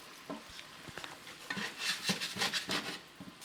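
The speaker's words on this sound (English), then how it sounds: "Now I'm going to add my onion. I'm just going to cook that until it goes golden brown." Chopped onion cooks in rendered beef fat for kheema, a soft, quiet sizzle broken by irregular scraping stirs that grow busier toward the middle, close by.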